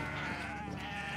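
Goats bleating in the video game Kenshi, a loud, continuous wavering cry filling the whole moment over game background sound, with no talk.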